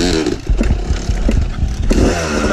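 A dirt bike engine revs close by in loud, choppy bursts, its rough exhaust note rising and falling quickly across a few seconds.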